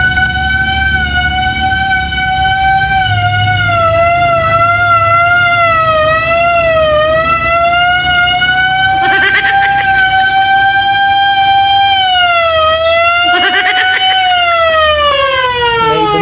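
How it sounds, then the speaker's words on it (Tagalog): A loud emergency vehicle siren, likely a fire truck or ambulance, wails steadily in a slow rising and falling tone for the whole stretch, with two brief bursts of air horn blasting over it. "Bombero ata, may ambulansya."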